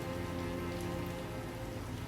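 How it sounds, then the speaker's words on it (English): Heavy rain pours steadily onto the cobbled streets of a noir city in the game Calvino Noir, a dense, even hiss with a low rumble underneath that holds constant and unbroken throughout. "Biblical rain pummels the city, but the stains remain."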